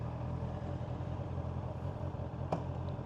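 Honda CBR650R motorcycle with E-Clutch runs with a low, steady engine drone and faint rumble, plus one brief sharp click partway through, no voices.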